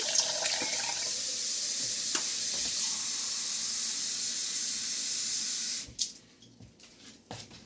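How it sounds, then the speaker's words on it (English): A tap runs steadily with a broad, continuous hiss of water for several seconds, then shuts off, leaving quiet clinks and handling sounds. "I'm going to get 2 cups of warm water."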